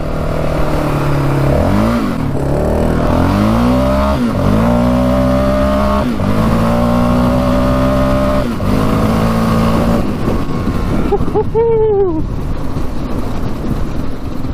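A Yamaha Raptor 700 quad is ridden hard over wet ground, its engine revving up and down in repeated loud surges as the tires spin, with rising and falling pitch sweeps across the whole stretch.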